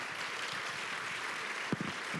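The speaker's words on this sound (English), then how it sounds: "Please give them a big round of applause." An auditorium audience at a national security forum applauds the panelists at the close of a panel: a steady wash of distant, fairly soft clapping that continues without pause, with no speech.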